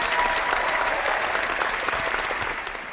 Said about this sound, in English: I applaud all the participants for the brilliant points being put up